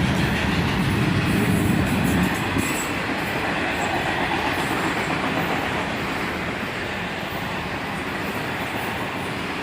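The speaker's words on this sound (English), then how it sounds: "A northbound autorack train, led by an ET44AH and an AC44CW" A CSX northbound autorack freight train led by ET44AH and AC44CW locomotives rolls past outdoors, loud and close, with a steady broad rumble and wheel clatter that eases slightly over several seconds.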